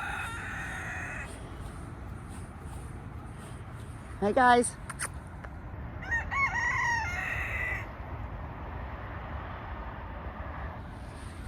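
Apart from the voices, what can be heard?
chickens and rooster crowing on a small hobby farm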